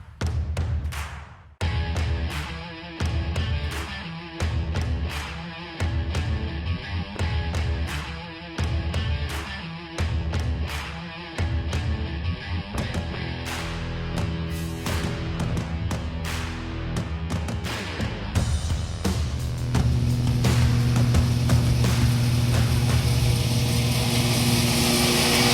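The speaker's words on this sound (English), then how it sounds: "So I'm about to get to cutting some grass." A lawn mower cutting grass, its engine chugging in a choppy pulsing rhythm at first, then running as a steady, loud drone.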